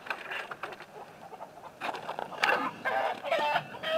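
Escaped chickens cluck near a farm pen, a run of close, busy clucks and squawks that grows louder and denser toward the end, with no talking.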